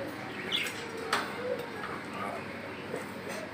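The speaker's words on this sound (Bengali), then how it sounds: "এখানে দেখতে পাচ্ছেন বিগ সাইজের একজোড়া কোকাটেল পাখি রানিং পেয়ার" Cockatiels at a bird market give brief chirps and calls in a busy setting, the bird sounds fairly faint and scattered under background chatter and market noise.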